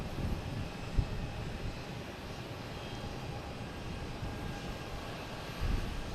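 A United Airlines Boeing 737 from Chicago on approach to Boston Logan Airport produces a steady, broad engine roar from some distance, holding constant for several seconds with no talking over it.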